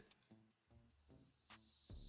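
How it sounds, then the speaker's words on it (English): A bright, hissing noise sweep glides steadily downward in pitch over about two seconds, with faint soft thumps underneath. "you always see this one noise fall that I use."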